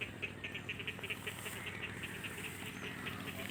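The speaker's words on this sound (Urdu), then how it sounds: "اگر مرغابی نہیں ہے تو کوئی مینڈک کی سپیشی ہوگی، کیونکہ ساون میں ایسی آوازیں آتی ہیں۔" Chorus of night creatures during a monsoon evening, steady repeated chirping calls pulsing in a regular rhythm, faint and distant against a continuous background.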